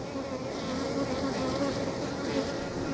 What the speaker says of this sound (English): That's the sound of a queen piping.